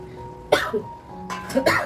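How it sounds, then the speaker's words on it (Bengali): An adult with a cold coughs twice in a kitchen while fish curry is cooking. The two short, harsh bursts come close together and stand out against a quiet background with a faint steady hum. "কাশিও হচ্ছে"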